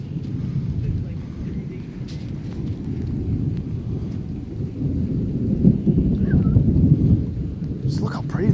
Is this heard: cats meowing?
no